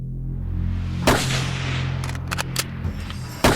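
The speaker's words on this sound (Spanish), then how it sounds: "Cuando los disparos resonaron en la plaza" A loud sharp crack of gunshots rings out across the plaza during the John F. Kennedy assassination, over a low rumbling hum, followed by a few fainter cracks and another sharp report at the end.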